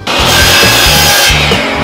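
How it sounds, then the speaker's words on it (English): Miter saw set to a 20-degree angle cutting a wood board for a chicken-sized picnic table leg, a loud continuous whining cut that fills the short span, with no talking. "I'm going to turn my miter saw to 20 degrees"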